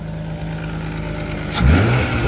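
A 1987 BMW 325iS with an S50B30 engine and worn VANOS, idling steadily before a sharp rev rises near the end, close and clear with no talking.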